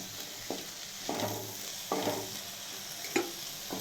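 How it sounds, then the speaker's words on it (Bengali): Cabbage frying in a little hot oil with chili flakes, a steady close sizzle broken by four spaced spatula stirs that scrape and swish through the pan. "আর বাঁধাকপি আমি গরম তেলে দিলাম, সামান্য তেলে।"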